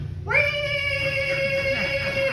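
A voice imitates a screeching cat with one sudden, loud, high-pitched wail that holds steady and then slowly fades.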